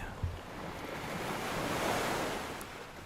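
Ocean surf and wind blend into a continuous, soft, broadband wash that swells gently and stays distant and steady, with no voices.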